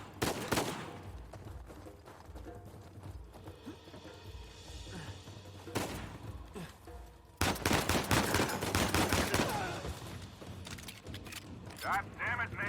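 Gunfire from a firefight in the video game Uncharted 4, bursts of shots crackling between stretches of game dialogue and music, with heavier volleys in the second half.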